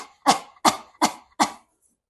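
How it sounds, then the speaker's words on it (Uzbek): Four deliberate coughs in an even rhythm, each a sharp loud burst that decays quickly, spaced about a third of a second apart, close to the microphone with silence between and after them. "Keyingisi yo'talar ekanmiz."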